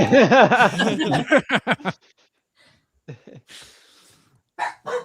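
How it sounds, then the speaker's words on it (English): Dogs barking at home, with a loud burst of sharp, repeated barks and yelps up front, then a few softer scattered barks and a final short volley after a quiet gap. "the dogs are barking"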